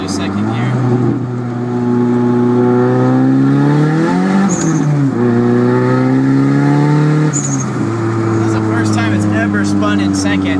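A Nissan 240SX running about 10 psi of boost pulls hard in second gear, its engine note rising loud and continuous with two brief dips for shifts or wheelspin, heard from close by.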